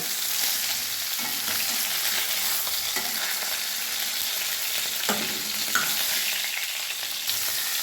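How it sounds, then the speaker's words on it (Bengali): Shol fish fry in oil left over from frying foli fish, giving a constant close sizzle with small crackles and a few stirring scrapes throughout. "এবারে ফুলুই মাছ ভাজা তেলে আমি শোল মাছগুলো ভেজে নিচ্ছি।"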